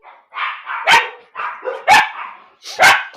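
A dog barks three times in a rhythmic sequence, each a loud, close bark preceded by a whiny, growling lead-in, with no talking.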